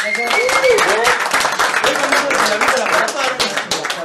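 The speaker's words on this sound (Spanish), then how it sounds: "Aplausos, carnales." A crowd applauds a ska band, with dense, loud clapping and cheering voices mixed throughout the whole stretch.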